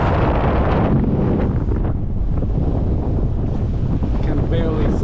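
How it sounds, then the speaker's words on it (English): Strong wind blows hard at the edge of the water during a high-tide evening, roaring and buffeting the microphone with loud continuous rumbling gusts, while faint waves wash in underneath. "really strong wind"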